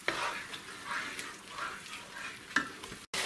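Tomato and ground meat sauce simmering in a pan, a soft bubbling sizzle with a few louder pops, close and fairly faint, no talk.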